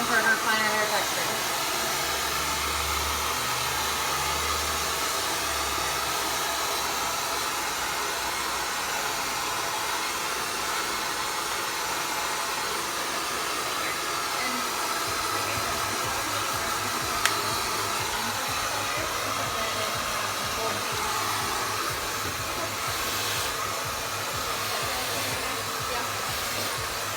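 A hair dryer blows steadily while medium length hair is blow-dried, a continuous loud whooshing hiss that runs the whole time with small shifts in pitch as the airflow moves, and a voice talks quietly beneath it.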